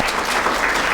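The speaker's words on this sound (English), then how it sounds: "So let's give him a round of applause." A conference audience claps together in a dense, steady burst of applause that fills the room for about a second, with no speech over it.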